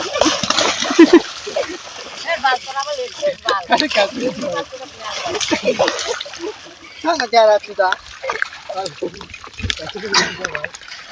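Splashing water while boys bathe outdoors at a shallow tube-well pump in a village, with choppy slaps and splatters coming in bursts, close by, under lively talking and shouting.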